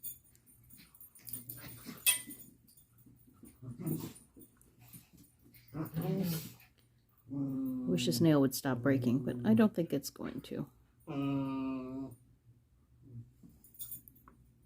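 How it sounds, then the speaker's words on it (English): A dog whimpers and makes wheezy, whining noises in short bursts close by, alternating with someone talking indoors during a gel nail manicure. "I don't even know which dog is making that noise."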